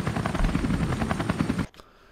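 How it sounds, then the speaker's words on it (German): Helicopter in the video game Resident Evil Revelations, a loud steady rotor chop and engine roar that cuts off abruptly near the end. "und da ist der Helikopter"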